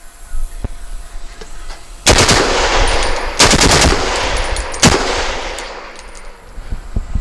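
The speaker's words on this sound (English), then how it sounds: "How effective is it? Let's see it in full auto." Full-auto bursts from a DoubleStar 3GR rifle in .308 fitted with a simple three-port muzzle device, loud and close: a sharp opening shot, then three sustained rattling bursts with short gaps and a few trailing pops.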